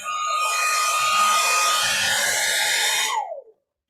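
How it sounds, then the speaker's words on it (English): A blow dryer runs steadily at close range for about three seconds to dry a freshly painted portrait sketch, then switches off and its whine winds down, leaving silence. "I'm just using a blow dryer"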